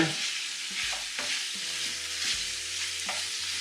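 Chicken pizzaiola with olives in tomato sauce bubbles and sizzles in a pan, a close steady frying hiss broken by soft stirring knocks and scrapes, with no talking.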